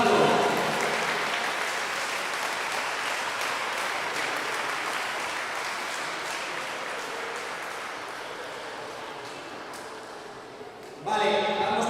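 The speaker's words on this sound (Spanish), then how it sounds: "Un aplauso," Spectators at a swimming trophy event give a swimmer a long round of applause, dense clapping echoing in a large space and slowly fading, before a voice comes in near the end.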